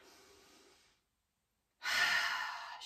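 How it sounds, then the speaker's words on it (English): Deep breathing during a pregnancy yoga sequence: a soft, drawn-out exhale, a short silent pause, then a louder, airy breath close to the microphone. "I'm going to take two breaths here, big breath in and out."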